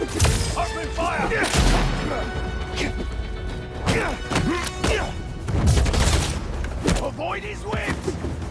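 Gunfire and impacts in the Spider-Man 2 video game come as loud bursts of cracks, smashes and thuds spread across the scene, with game voices shouting in between.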